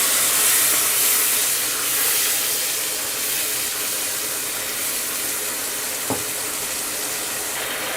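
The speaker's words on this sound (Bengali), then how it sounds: "1/2 কাপ মতো পানি দিয়ে দিলাম আমি।" Half a cup of water poured into frying ground spices such as cumin in a pan sets off a loud, steady sizzling hiss that slowly eases, with a single small clink partway through.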